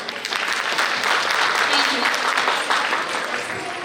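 An audience claps loudly in a steady, dense burst after a group choreography performance at a women's conference and sarod festival, with a voice faintly under the applause throughout.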